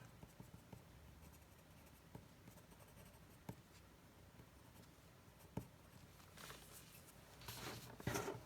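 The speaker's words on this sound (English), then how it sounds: "A nice sharp pencil needed for this bit." A sharp pencil colouring on paper, a soft, close scratching with small strokes and taps repeating irregularly, then quicker, busier strokes near the end.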